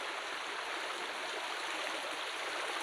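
A hidden jungle waterfall gives off a steady, unbroken rushing roar that stays even and constant throughout, with no voices.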